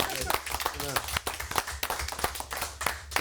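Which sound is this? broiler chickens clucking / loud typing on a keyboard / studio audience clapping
studio audience clapping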